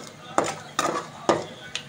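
Ground gongura paste of sorrel leaves, dried red chilies and coriander seeds goes into a hot tempering with fried dried red chilies for gongura pickle, heard as four sharp, close scraping strokes about half a second apart over a faint sizzle.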